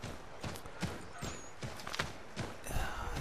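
Horse hooves in the video game Assassin's Creed 3, a steady clip-clop of several evenly spaced hoof falls, moderately close and fairly quiet, with no one speaking.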